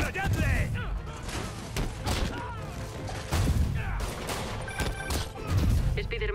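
Gunfire in the Marvel's Spider-Man video game: scattered shots and bursts mixed with crashes and heavy thuds during a chaotic street fight, with voices talking over the action.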